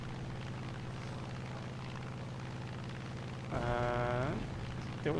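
Bomber aircraft drone steadily overhead in War Thunder, a low continuous engine hum joined near the end by a louder, rising tonal roar as a plane sweeps close by.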